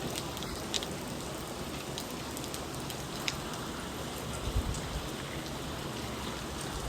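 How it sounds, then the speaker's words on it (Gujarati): Light, steady rain falls in a continuous soft hiss with faint scattered drips and patters throughout, even and unbroken, no voices. "ત્યારનો વરસાદ ચાલુ જ છે, આમ ધીમો ધીમો જ ચાલુ છે"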